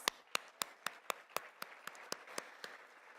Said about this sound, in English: so let's give her a hearty round of applause